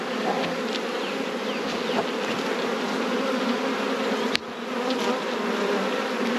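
Dense, steady buzzing of a mass of honey bees as a hive frame is shaken during a four-frame nuc split, with a sharp bump partway through before the swarming hum continues.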